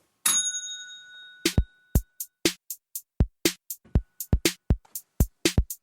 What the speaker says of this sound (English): we're going to ding the bell